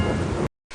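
Rain and thunder in the ClueFinders video game: a brief, loud, dense wash of rain with a low rumble that cuts off abruptly, falls silent, then resumes.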